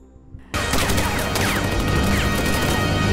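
German gunfire erupts in a war film, a dense burst of rapid shots and loud crashing impacts that starts abruptly and continues without a break.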